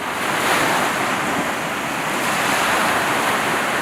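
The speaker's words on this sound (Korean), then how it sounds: "이렇게 파도, 파도를 치고 있었다고?" Sea waves breaking on Hwajinpo beach on the East Sea in Goseong, Gangwon, a continuous loud roar of surf mixed with wind buffeting the microphone, with no talk.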